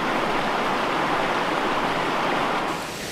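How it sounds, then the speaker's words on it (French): A small waterfall in a stream gives off a dense, even rush of falling water, loud and close, softening slightly near the end. "Une belle cascade."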